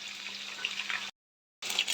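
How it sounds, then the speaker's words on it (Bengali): Chopped onion frying in hot oil in a home kitchen, a steady close hiss and crackle of sizzling that cuts out briefly to silence before resuming. "আমার তেলটা গরম হয়ে গেছে, এখন আমি পেঁয়াজটা দিয়ে দিলাম।"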